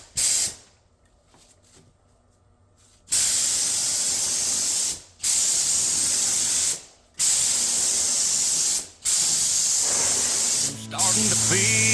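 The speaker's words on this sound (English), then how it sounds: "I've got my primer all mixed up in the gun, and I'm ready to start spraying." A spray gun hisses out red oxide primer onto Farmall B tractor sheet metal in four long, loud bursts separated by short pauses, after a quieter stretch of light shop noise.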